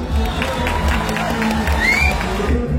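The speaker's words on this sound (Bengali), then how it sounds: "যদি একটা জোরে হাততালি হয় আমার ভালো লাগবে।" A large live concert crowd at a club show, roaring and cheering in a dense continuous wash with bits of clapping and whoops, loud and close, with shouting voices mixed in.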